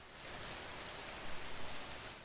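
Rain falling on a wet, cold night, a soft and steady hiss of drops pattering on surfaces, faint and continuous with a few slightly louder spatters.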